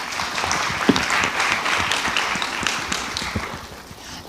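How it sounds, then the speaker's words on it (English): An audience at a conference session applauds, a lively burst of many hands clapping with distinct individual claps standing out, fading a little toward the end. "I think that deserves a round of applause."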